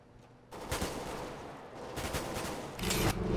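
Gunfire in the game CS:GO, where a Revolver R8 is in play: loud bursts of shots break out after a quiet start, with repeated rapid volleys and heavy blasts near the end.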